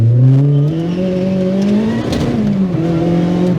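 A supercharged K24 engine in a Honda DC5 Integra Type R pulls hard under acceleration, a loud close-up drone rising steadily in pitch, dipping briefly as it shifts, then climbing again with a raw, race-car edge.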